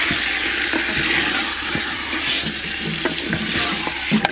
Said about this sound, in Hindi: तकरीबन 10 से 12 मिनट जो है वो भून लिया हमने चिकन को